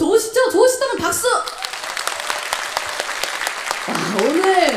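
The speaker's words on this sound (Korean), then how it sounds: "좋으시다면 박수!" Concert audience applause in a hall, a steady patter of clapping from the crowd that rises while a singer speaks over it at the start and again near the end.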